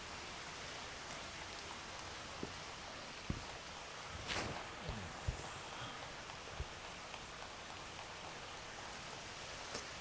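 Steady rain patters on surfaces at a Japanese temple, a dense even hiss running throughout with a few louder drips and splashes standing out close by.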